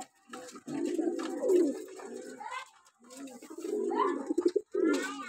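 Pet pigeons feeding on an upper-floor rooftop coo in two long throaty rolling phrases, close and loud, separated by a short pause, with a third coo starting at the end.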